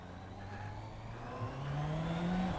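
Honda CBR650F inline-4 motorcycle engine rising in pitch as it revs up, a steady mid-range drone climbing toward a higher whine, moderately loud with no talk.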